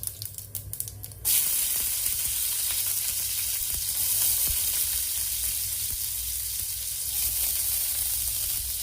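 Green chili goes into a hot pan for fried rice, setting off a sudden loud sizzle that keeps hissing steadily up close, with faint stirring clinks and no voices.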